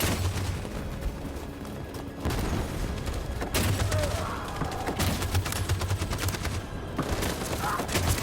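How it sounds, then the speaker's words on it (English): Sustained machine gun fire in Detroit Become Human, a loud nearby barrage of rapid shots with booms mixed in, running almost without a break, with faint voices underneath. "That machine gun is taking down everything that moves!"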